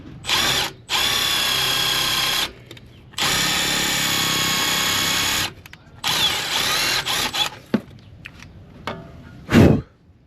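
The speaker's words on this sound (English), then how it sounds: "And use our little ground wire brush that we made." A power drill spins a homemade wire brush against metal to clean a ground connection during a battery and alternator upgrade on a Ford F150 Lightning, giving several loud, close bursts of whirring with short pauses between.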